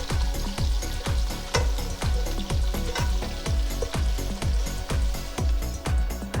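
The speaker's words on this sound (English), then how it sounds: "Saute onions." Onions sauté in a hot pan with a loud, continuous sizzle and crackle, close up, and a steady repeating thump runs through it at a regular beat.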